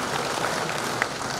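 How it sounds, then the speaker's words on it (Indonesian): Brief applause from a church gathering, a dense wash of clapping at steady level with no voices over it. "Tepuk tangan dulu"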